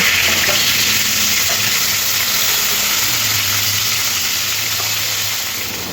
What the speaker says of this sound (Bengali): বাকি যে একটা মাছ আছে সেটাও ভেজে নেব